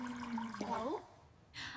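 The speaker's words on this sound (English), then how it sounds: "I am filling a glass with water." Water pours into a glass in a kitchen with a rising, gurgling tone as the glass fills, followed by a short burst of hiss at the end. The sound is close and moderately quiet.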